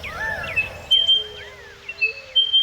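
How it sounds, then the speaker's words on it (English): Several short, high chirping bird calls from a spotted pardalote, a small bird, repeat in quick bursts over a faint outdoor background, fairly close and clear. "The spotted pardalote, a small, pretty bird with white spots on a black crown, orange chest, chestnut-coloured rump."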